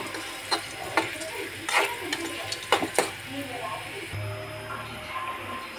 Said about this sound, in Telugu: ఫ్రై అయ్యే వరకు ఇలా కలుపుతూ ఉండాలి, లేకుంటే మాడిపోతాయి